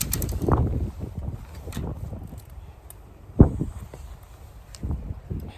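Wind buffets the microphone on a shore at night, low rumbling gusts that swell and fade, with one sharp blast partway through and no voices.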